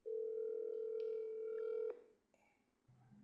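A telephone dial tone sounds loud and steady for about two seconds as a call is being placed, then cuts off abruptly, followed by faint line clicks and a short low tone.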